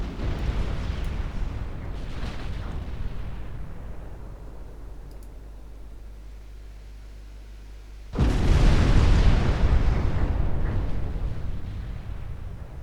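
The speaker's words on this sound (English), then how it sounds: "Four-inch guns are opening up on Hagen" Four-inch naval guns firing in a naval battle game, a sustained rumbling barrage with a loud, dense burst of gunfire erupting partway through and continuing to the end, no voices.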